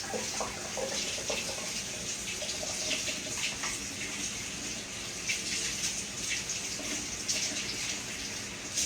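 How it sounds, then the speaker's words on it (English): Hands being rinsed under a running kitchen sink tap, a steady close rush of water with small splashes and shifts in the flow as the hands move through the stream. "Let me get my hands rinsed off."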